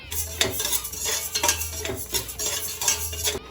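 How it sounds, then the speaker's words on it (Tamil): Moong dal roasting in a pan for Ashoka halwa, a ladle scraping and clinking against the metal in a rhythmic series of strokes over a light dry sizzle. "பாசிப்பருப்பு இப்போ நல்லா வறுத்தாச்சு"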